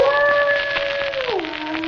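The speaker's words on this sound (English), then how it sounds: "Listen to that dog." Old-time radio drama effect of a dog howling on a stormy night with rain: one long, sustained mournful howl that slides lower at the end, loud and close over steady rain-like hiss.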